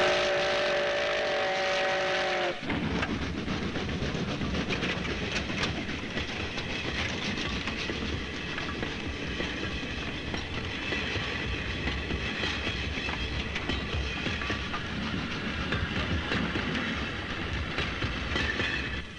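JNR 9600 series steam locomotive hauling a train over a snowy mountain pass on the Yonesaka Line in winter, a steady rumbling roar with wheels clattering on the rails, loud and close, continuing without voices.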